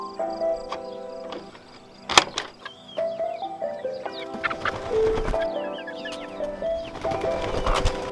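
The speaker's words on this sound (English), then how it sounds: "Now let's let the chickens out." Chickens being let out of their coop in the morning cluck and squawk in short bursts, fairly close, with clanks and rattles of the coop door mixed in.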